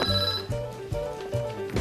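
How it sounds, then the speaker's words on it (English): A telephone rings in a quiet room, its bell trilling in short regular bursts about every half second, steady and moderately loud with no voices. "There's your phone."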